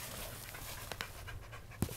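A found stray dog pants quietly and steadily at close range, with soft rhythmic breaths and a brief thump near the end, and no voices.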